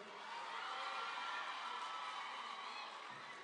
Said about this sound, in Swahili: tumpigie Rehema makofi